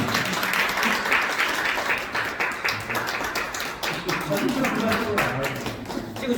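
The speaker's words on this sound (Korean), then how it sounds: "박수 한번 쳐주세요." An audience at a book concert at Anseong Art Hall claps, steady, dense applause from many hands holding at an even level for several seconds, with a few voices mixed in.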